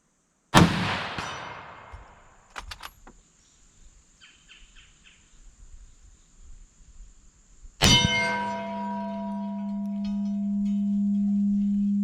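A 1916 Winchester-made Enfield P14 .303 rifle fires a loud, close crack outdoors at a target, with insects chirping afterward, then a second sharp crack followed by a long, steady ringing tone.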